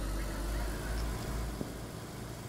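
A car engine in a video game hums steadily at idle with a low rumble throughout, fairly quiet and unbroken.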